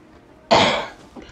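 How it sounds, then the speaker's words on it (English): A single sharp, close cough bursts out from a person playing a video game, fading quickly, with a faint softer throat sound following a moment later; no talking. "Sorry about my cough, guys."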